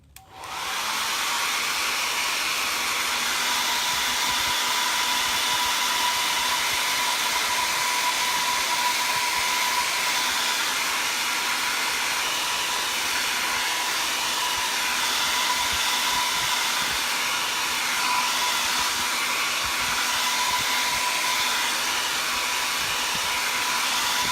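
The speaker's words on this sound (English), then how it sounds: "now I'm going to grab my blow dryer and I'm just going to dry this design" A handheld blow dryer dries a freshly applied chalk design on a Valentine's Day sign, running as one steady, loud, close whoosh from start to finish with no talk over it.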